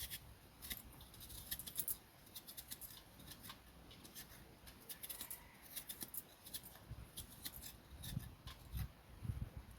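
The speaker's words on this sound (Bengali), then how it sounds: "এটা দিয়ে আমি ভালো করে নারকেলগুলোকে কুড়িয়ে নেব।" Coconut grated by hand with a coconut scraper makes soft, rhythmic scratchy rasps in irregular bursts, faint and close, with no speech.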